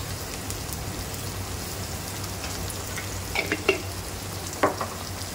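Ginger and garlic frying with onions in a pan, a continuous close sizzle with a few stirring scrapes and taps toward the end, no voices.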